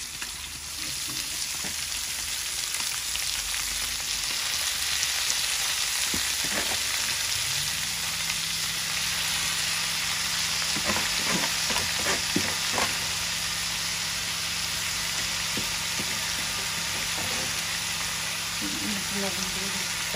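Chopped onion and garlic fry in a pan with a constant loud sizzle, broken by occasional stirring clicks and a low engine-like hum. The frying stays close and steady throughout.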